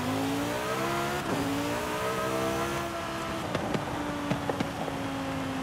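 A 1,200-horsepower V10-swapped Ferrari 458 Italia in Forza Horizon 5 revs hard and accelerates on a drag strip, its engine note climbing through gears with steady loud harmonics, brief shift dips and sharp pops or crackles near the end.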